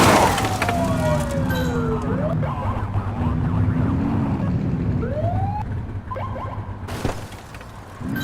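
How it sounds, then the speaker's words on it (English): Police car siren in The Precinct video game, a rising electronic wail sweeping up and down repeatedly over engine rumble and game background noise, with voices talking over it. "Get on their tail and flip the siren."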